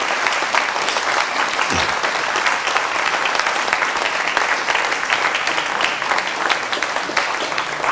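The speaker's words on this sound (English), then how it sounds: "let's give a big round of applause in appreciation" An art museum centennial audience gives a big, sustained round of applause, a dense, even roar of many hands clapping from start to finish.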